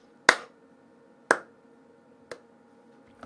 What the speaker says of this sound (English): Yes, the slow clapping.